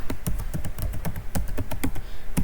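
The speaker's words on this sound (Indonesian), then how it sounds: "lalu kita ketik namanya" Rapid, steady clicking of computer keyboard keys as a name is typed, close and crisp, with no voices.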